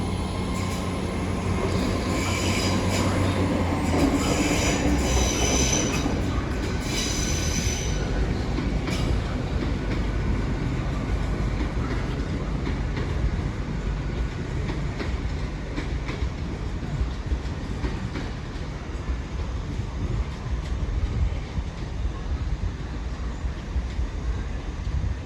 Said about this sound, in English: about to go out now will be that service to Penzance